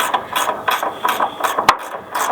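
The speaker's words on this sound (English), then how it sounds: "Good old turning the wrench." Ratchet wrench being turned on the door of a 1963 Chevrolet C10 during removal, a quick run of repeated clicking strokes in close, steady rhythm with one sharp knock near the end.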